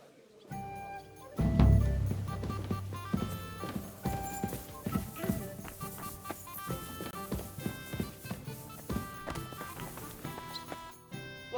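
Horse hooves clip-clopping in the game Kingdom Come: Deliverance 2, a steady walking rhythm of hoofbeats that starts with a heavy thud and carries on evenly under background music, no talking.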